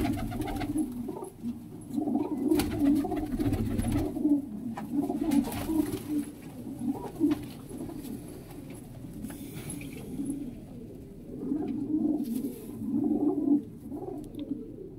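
Pigeons coo over and over in low, throaty, overlapping bursts, close and steady throughout, with faint rustling in the background.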